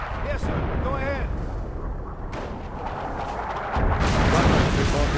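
Artillery barrage in the real-time strategy game Company of Heroes: Opposing Fronts, with dense rumbling booms and blasts that swell louder near the end, while radio-style voices talk over the battle.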